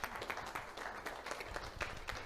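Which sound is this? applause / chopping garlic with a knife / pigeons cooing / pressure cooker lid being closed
applause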